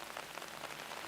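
Steady rain falls on a surface during a scene from the Thai TV drama Love in The Air, a dense, even hiss that fills the background without a break.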